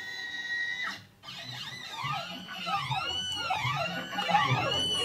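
A CNC plasma cutting table runs a dry pass without cutting. Its motors give off whining tones that rise and fall as the gantry speeds up and slows down, moderately loud and close, with no talking.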